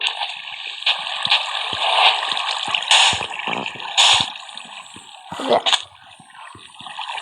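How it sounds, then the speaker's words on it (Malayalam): Water in the video game Minecraft, played with shaders, gurgles and splashes in steady fluid bursts with a few sharper splashes, fairly close and alone without talk. "വെള്ളം വെള്ളം വെള്ളം."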